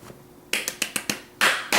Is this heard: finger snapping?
yes